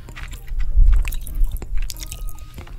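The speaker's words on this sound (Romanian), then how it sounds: "Uite cum mestecă, bă, de parcă nu mânca de 5 zile" Someone chews food loudly and wetly close to the microphone, with squishy, crunching bites and smacking that roll on continuously, with no speech on top.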